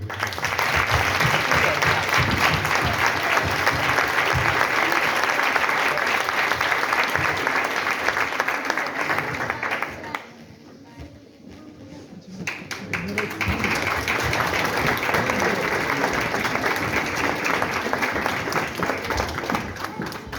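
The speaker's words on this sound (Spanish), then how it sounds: "Un fuerte aplauso." A large audience at a sports awards gala in Miño applauding loudly and continuously for a team award, with a brief dip in the middle before the clapping swells again; voices are faintly mixed in.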